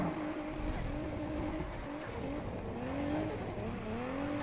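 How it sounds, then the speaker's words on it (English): A Mazda RX7 drifting in Need for Speed Heat, its tires squealing in long wavering whines over a steady engine drone, with the revs rising and falling through the slide. "As you can see, getting to drift is not a problem."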